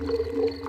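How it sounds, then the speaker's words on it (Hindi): A cartoon stomach rumble for Daddy Pig plays as a short, low, steady gurgling drone, moderately loud and heard alone without any speech. "ये डैडी के पेट की आवाज है।"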